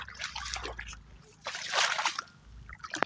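Water runs and trickles through a wheat field flooded by rain, heard outdoors as uneven gushing, splashing bursts with quieter stretches in between.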